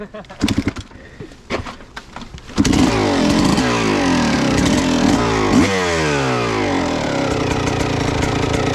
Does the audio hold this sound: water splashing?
no